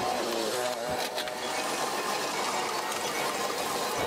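Small engine of a seed and fertilizer sprayer machine in Ca Mau runs steadily and close, with a continuous buzzing, rattling drone and no talking.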